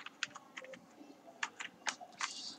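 Typing on a computer keyboard, a quick irregular run of close, crisp key clicks with short pauses between bursts, heard alone in a quiet room.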